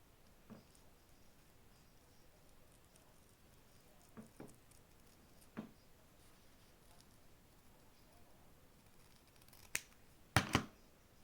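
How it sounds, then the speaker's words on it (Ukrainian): Scissors cut out a paper petal in a few faint, sparse snips scattered over a quiet background, ending with a cluster of sharper, louder cuts close by. "І отак ось вирізаю."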